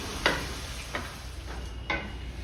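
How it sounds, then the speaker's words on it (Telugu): Carrot, beans, peas and coconut fry on a low flame with a soft, faint sizzle. A spoon scrapes through the pan in about three short strokes. "ఇప్పుడు ఇది సిమ్లో వేగుతూ ఉంటుంది"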